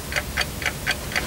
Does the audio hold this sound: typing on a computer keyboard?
no